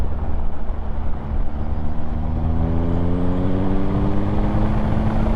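A 2019 Triumph Speed Triple RS motorcycle pulls hard in sixth gear during an overtake, a steady engine drone with rising harmonics that climbs in pitch over a few seconds beneath loud wind rush.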